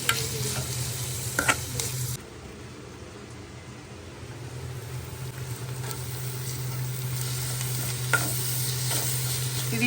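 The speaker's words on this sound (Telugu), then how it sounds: "ఒక్క నిమిషం మగ్గినాక అప్పుడు పప్పు తెస్తా పప్పు టమాటాలు వేసేసుకుంటాం" Dal and tomatoes sizzle and cook in a pan with steady frying hiss, broken by a few clinks and scrapes of stirring, close and continuous with no talk.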